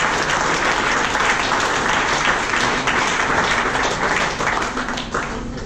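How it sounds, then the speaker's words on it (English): Dense, steady applause from a crowd of campaign supporters at an election victory event, loud and continuous throughout before easing slightly at the end. "So let's give you a round of applause."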